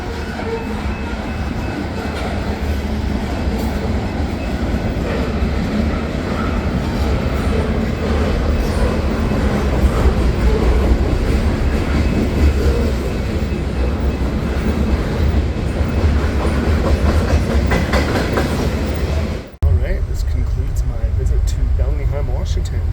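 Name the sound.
passenger train passing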